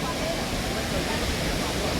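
Steady rushing wash of a river flowing nearby along a cold mountain path toward Taptkund, a constant broadband roar with no pauses, moderately loud and unbroken from start to finish.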